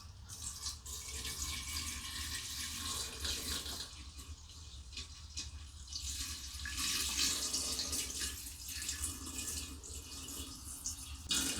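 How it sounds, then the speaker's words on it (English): Apple juice is poured from a bottle into a jar, making a continuous splashing, gurgling stream of liquid close to the microphone that keeps going at a fairly even level. "we're just going to pour our apple juice straight in"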